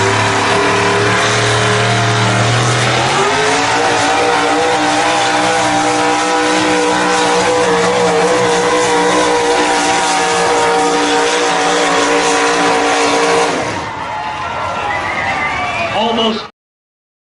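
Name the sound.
Dodge pulling truck engine revving at truck pull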